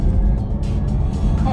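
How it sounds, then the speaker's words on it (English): A 750 bhp Porsche Taycan electric car accelerates hard, heard from inside as a loud, close, continuous low road and wind rumble that barely changes over the short stretch. "Let's just try it again on the acceleration."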